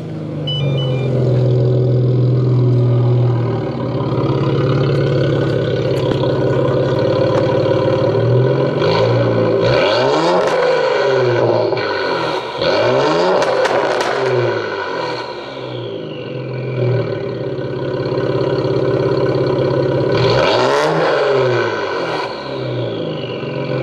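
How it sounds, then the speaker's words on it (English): Infiniti Q50 Red Sport with a loud aftermarket exhaust starts up and settles into a deep rumbling idle, then several sharp revs rise and fall close to the microphone, with another burst of revving near the end. "do a little startup."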